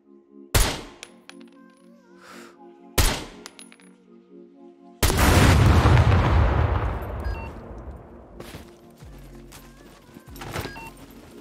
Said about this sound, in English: Okay, it's time for some pipe bombs.